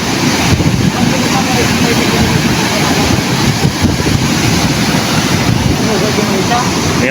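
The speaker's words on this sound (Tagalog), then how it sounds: "Nalaking alon oh. Galit na galit yung dagat." Big, rough seas crash against the shoreline in a constant loud roar of surf, heavy wind buffeting the microphone throughout with no clear breaks between waves.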